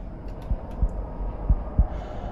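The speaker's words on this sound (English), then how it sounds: "Wait, why is my heart beating?" A heartbeat in the Roblox horror game Doors thumps low and close in a steady rhythm of about four beats over a faint ambient hum.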